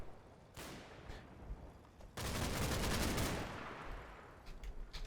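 Gunfire from the video game Combat Mission: Battle for Normandy, with a single loud shot, then a sustained burst of automatic fire and rattling shots fading off, with no talk.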